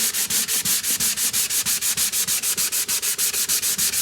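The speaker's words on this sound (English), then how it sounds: "All I'm doing here is getting out the orbital marks that were left in this by 320 grit sandpaper." Hand sanding a wooden guitar body with the grain using 320 grit sandpaper, steady rapid back-and-forth rasping strokes, about five per second, close and loud with no voices.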